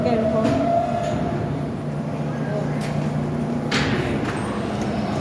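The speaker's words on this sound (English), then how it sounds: "The train is here." A New York City L train subway pulls into a station, a loud rumbling roar with a steady hum and occasional screeches and clicks, while people talk nearby.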